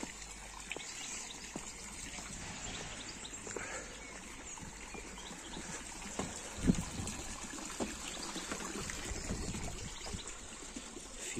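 Water trickles and splashes softly and steadily in a lotus garden in Rothenburg ob der Tauber, quiet and a little distant, with a few faint birdcalls and occasional louder drips.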